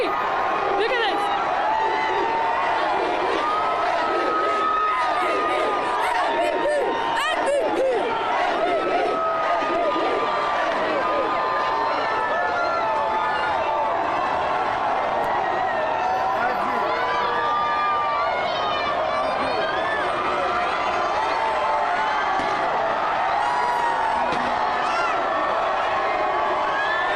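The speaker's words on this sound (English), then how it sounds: "You can hear the crowd." A dense parade crowd celebrating a Golden State Warriors championship cheers, whoops and shouts without a break, with chants rising out of the roar. The noise is loud and continuous, and nearby voices mix into it.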